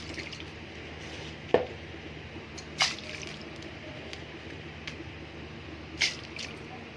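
Washed rice tipped into a pot of ghee and water for a home-cooked meal, a few soft, wet plops and squishy splashes spaced a second or so apart over a quiet low hum.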